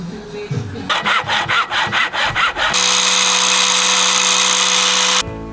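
An old acoustic guitar bridge saddle is trimmed with hand tools: a run of quick rhythmic rasping strokes, then a steady loud high-pitched grinding whine that holds for a few seconds and stops abruptly.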